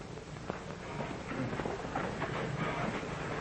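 A 1940s train rumbles along its rails with a steady broad roar and faint rhythmic clatter, muffled and continuous, with no voices over it.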